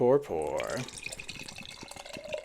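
Double dry-hopped beer poured into a glass, a short liquid glug and splash at the start, then soft fizzing and trickling with small drips, fairly quiet and close.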